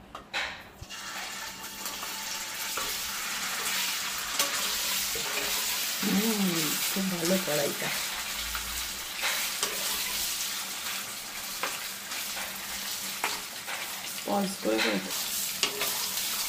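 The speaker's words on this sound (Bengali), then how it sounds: "তো দেখো পনিরগুলো ভেজে উঠিয়ে রাখলাম" Paneer pieces fry and sizzle in a wok, a steady close crackle of hot oil running throughout with occasional stirring scrapes, while someone briefly speaks over it.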